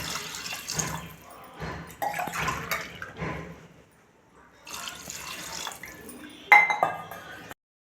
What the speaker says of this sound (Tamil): இப்போ நம்ம 3 கிளாஸ் போல் தண்ணி ஊற்றிக்கலாம்.